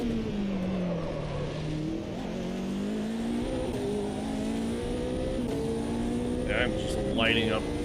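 Race car wheelspin in Automobilista 2 at the COTA circuit: a steady, loud engine drone shifts pitch as it revs, with short squealing bursts of tire spin near the end.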